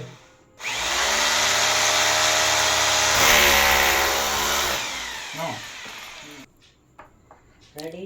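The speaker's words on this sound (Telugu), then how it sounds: "డ్రిల్ మిషన్ తోడు హోల్స్ పెట్టాలి" A loud, steady power drill whine runs for several seconds, close to the microphone, as it bores holes in a wall for a switch board, then stops, followed by faint clicks and brief voices.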